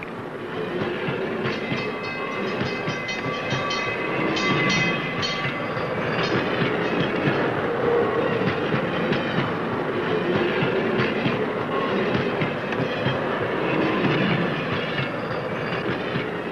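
Trains carrying nerve gas coffins bound for Sunny Point, North Carolina roll along the rails with a continuous heavy rumble, rhythmic clacking of wheels and faint metallic squeals, loud and steady without speech.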